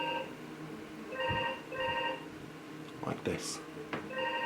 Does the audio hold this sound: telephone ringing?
yes